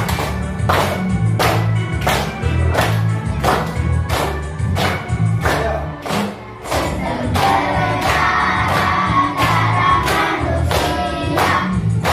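Children in a classroom clap rhythmically in a steady beat over loud music with singing, about a dozen evenly spaced claps across the clip.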